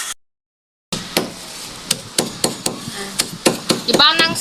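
Hammer repeatedly pounding black pepper inside a plastic bag, a steady series of sharp close thuds after a brief silent gap, with a scraping rustle near the end.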